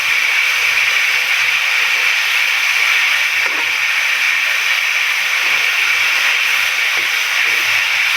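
Beef tikka boti pieces fry in very hot ghee, giving a steady, even sizzling hiss that runs unbroken from start to finish with no voices over it.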